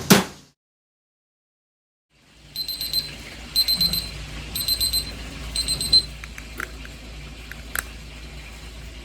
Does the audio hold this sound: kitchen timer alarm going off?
yes